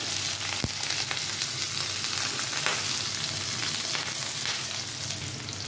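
Large onion frying in two spoons of oil with cumin and green chillies in a pan, a steady close sizzle running throughout with a single sharp tick near the start.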